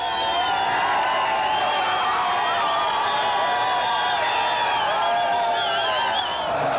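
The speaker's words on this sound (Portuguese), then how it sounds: "Outra manobra de moto bastante aplaudida é o peão." A large outdoor crowd cheers and shouts continuously for a motorcycle spinning stunt, a loud, dense roar of voices with whoops rising above it.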